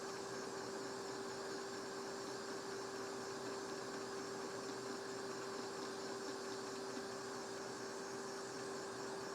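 A hot air rework station blows steadily over a Samsung J7 Prime phone circuit board from a distance, preheating it for a micro USB charging port replacement; an even, constant whoosh with a sustained tone, no talking.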